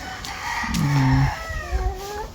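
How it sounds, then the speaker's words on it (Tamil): Native country chickens on a one-acre poultry farm holding about 1500 birds: a rooster crows nearby while hens cluck around it, with faint background noise and no talk. "ஒரு ஏக்கரில் வந்து 1500 கோழி வச்சுருக்காங்க. முழுக்க நாட்டுக்கோழி தான் பண்ணிகிட்ருக்காங்க."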